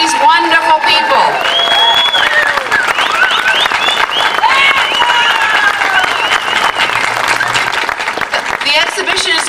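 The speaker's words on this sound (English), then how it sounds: "Can we have a great applause for these wonderful people?" Audience applause at an art exhibition of portraits, steady clapping from a crowd throughout, with voices and cheering mixed in.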